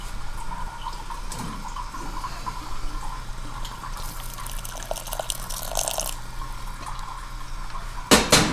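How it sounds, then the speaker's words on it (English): Water poured into a pot of baked beans on an antique wood cookstove, a steady trickling and splashing stream that ends in a louder burst of pouring at the end. "Add a little bit more water."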